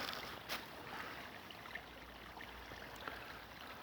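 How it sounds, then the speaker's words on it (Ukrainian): Steady rushing water from a small stream or cascade, a continuous wash with faint splashes, heard alone at moderate distance. "Ось ще один водоспад."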